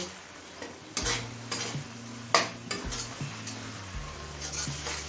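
A spice mix for chicken ghugni fries over a medium flame while a utensil stirs and scrapes the pan, giving a low steady sizzle broken by several sharp scraping strokes.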